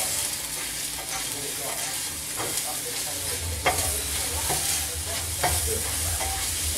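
Scrambled eggs sizzle softly in a pan while a utensil stirs and scrapes through them, with a steady low frying hiss and occasional sharper scrapes up close.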